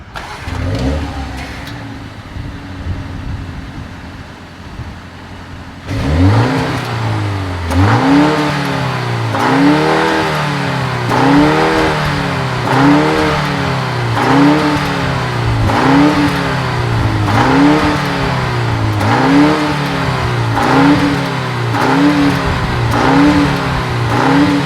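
A 2025 BMW M235 Gran Coupe engine fires up with a loud bark and climbs to a high automatic idle around 2,500 RPM, then holds a steady, pulsing rev for many seconds, close and prominent with no talk.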